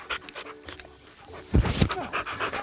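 A Boxer dog pants in quick, breathy bursts close by, growing louder toward the end of the short stretch with faint rustling before it.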